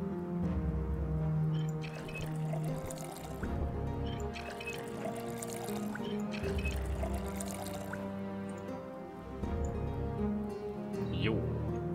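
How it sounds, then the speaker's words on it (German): In the video game Project Zomboid, water pours steadily into a bottle being filled, a continuous trickling stream heard alongside background music. "Wasserflasche füllen."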